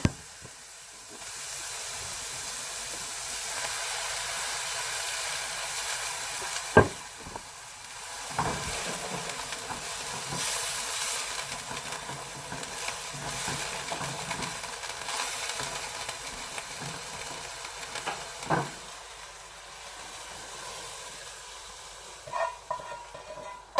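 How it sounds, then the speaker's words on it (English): Guinness is poured into a hot pan to deglaze it for beef and barley stew, releasing a loud, steady sizzling hiss of steam with occasional clinks and stirring scrapes for over twenty seconds. "I'm going to deglaze the pan."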